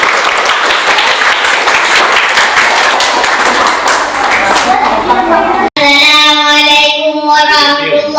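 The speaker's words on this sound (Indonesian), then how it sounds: "Tepuk tangan." Groups of primary school pupils clap loudly and close by for several seconds, a dense burst of hand claps that cuts off abruptly, then a voice begins speaking.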